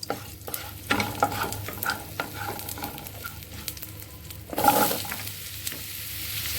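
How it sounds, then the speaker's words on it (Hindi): Turnips and peas frying with asafoetida in a pan, a steady close sizzle with repeated stirring scrapes and a louder burst of spitting near the end. "हींग के बाद इसमें जाएगा शलगम और मटर।"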